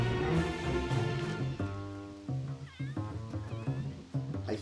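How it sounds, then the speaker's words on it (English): A cat in The Sims 3 meows repeatedly, a string of clear, close, drawn-out meows with a caterwauling tone, heard alone with no talk. "Hold on. I hear Kitty."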